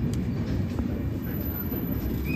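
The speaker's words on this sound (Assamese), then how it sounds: "এইখন আমাৰ ট্ৰেইন আহি পাই গ'লহি" A train pulls into a station with a heavy, continuous low rumble of wheels and carriages, close and steady, with no speech over it.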